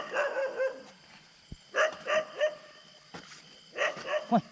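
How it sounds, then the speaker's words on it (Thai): A dog barks repeatedly near a rural house, in three bursts of two or three sharp barks each, separated by short pauses, loud and close. A faint voice is heard in the background. "หมาก็เห่านะ"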